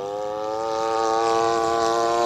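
A Maxi Lift 88-inch Extra Utility RC model airplane engine drones steadily overhead in flight, its buzzing tone swelling slightly louder as it approaches with a faint uneven wobble.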